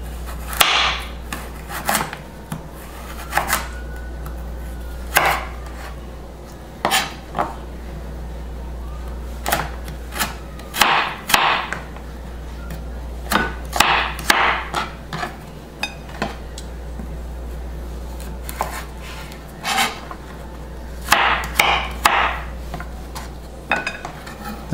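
Thin knife strokes on a board as vegetables are cut into julienne strips, scattered clusters of close taps over a steady low hum, with no talking.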